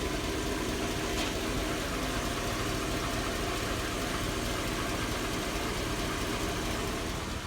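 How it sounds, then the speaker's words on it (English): A 2002 Chevy Avalanche with a 5.3L V8 idles with a possible exhaust leak, a steady, even drone with a faint ticking texture, continuous and close with no talk. "Sounds like a exhaust leak too."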